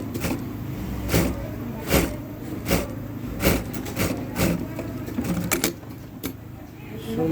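A Jack A5E industrial sewing machine stitches a jacket collar, its motor whirring up in loud, regular bursts about every second, close by with workshop noise between the runs.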